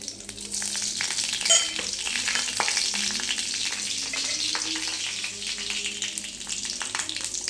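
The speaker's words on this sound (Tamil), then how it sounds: "இதுக்கு வந்து தாளிப்பு வந்து கடுகு உளுந்து ரெண்டே ரெண்டு வெந்தயம் தான் வைக்கணும்" Mustard seeds, urad dal and fenugreek crackle and sizzle in hot oil as a tempering for a tamarind curry, a dense, steady frying hiss with scattered pops, close and fairly loud, with no talk.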